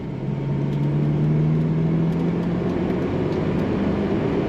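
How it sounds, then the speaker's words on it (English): An automatic 1978 Chevrolet Corvette 25th Anniversary accelerates smoothly from inside the cabin, its engine drone steady and loud with a low tone slowly rising. "Very nice smooth acceleration in this Corvette."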